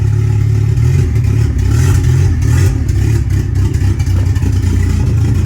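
A vehicle engine running with no exhaust fitted roars loud and raw, with uneven revving and rattly clatter throughout, and no talk over it.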